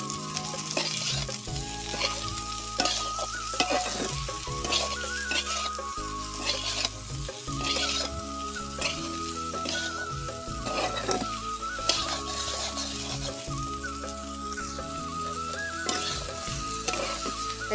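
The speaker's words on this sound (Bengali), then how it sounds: "এখন ভালোভাবে আমি মিশিয়ে নিব।" Cauliflower with coriander and cumin powder being stirred in a pan with a little oil, a continuous close sizzle under busy, rhythmic scraping and stirring strokes that continue throughout, no voices.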